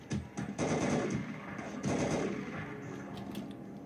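Automatic rifle fire in the Half-Life mod Another Fate, two loud sustained bursts of rapid shots with a trailing echo between them, no speech over it.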